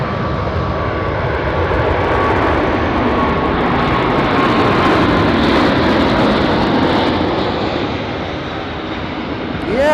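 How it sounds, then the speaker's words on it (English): Cargo jet taking off at Anchorage airport, a loud, continuous engine roar that fills the whole stretch with a broad rumble and a steady whine. "There it goes. Beautiful takeoff."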